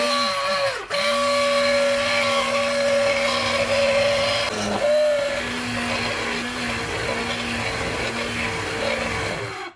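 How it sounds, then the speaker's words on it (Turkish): Countertop blender pureeing a vegetable lentil soup in a home kitchen, a loud steady motor whir with a brief dip near the start and another midway, then running continuously to the end, no talking. "Şimdi ben blenderlayacağım."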